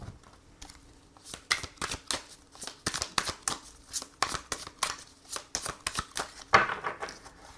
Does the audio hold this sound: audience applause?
no